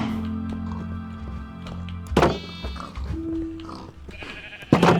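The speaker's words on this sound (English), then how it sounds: "Now that I got the sheep, I got all the major farm animals" Sheep bleating in a prehistoric-themed farming video game barn, a few distinct bleats over steady game background tones with occasional soft thunks.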